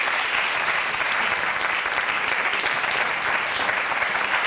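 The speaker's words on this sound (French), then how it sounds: "Merci Sylvie, qu'on peut applaudir" A French television game show studio audience applauds contestant Sylvie on Pyramide, a steady, loud, even sheet of clapping with no voices on top.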